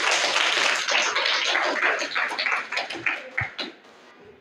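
Children clapping for a classmate's correct answer in a junior high school classroom, a dense burst of applause that thins into a few scattered claps before dying away, with no talk over it.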